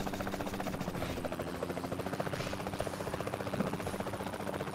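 Helicopter in the VR shooter game Bullets and More, a steady rotor drone and buzzing engine hum throughout, close and continuous, with faint voices underneath.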